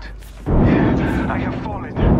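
A frag grenade goes off in Apex Legends, one loud close blast with a sustained rumbling tail, followed by a second burst near the end, amid game combat noise and a talking voice.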